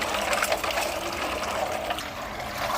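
Water pouring and sloshing steadily while tamarind is rinsed a third time for a long-keeping pickle, a continuous close gushing wash with no talk.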